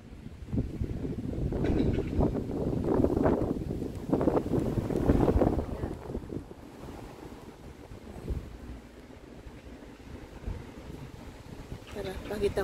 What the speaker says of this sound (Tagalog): ang hangin, sobrang hangin